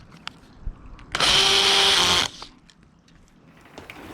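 A power drill drives a screw into a greenhouse frame in one loud, close whir of about a second, with quiet handling clicks before and after.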